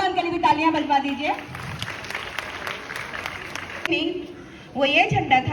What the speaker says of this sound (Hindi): एक बार गरिमा मैम के लिए भी तालियां बजवा दीजिए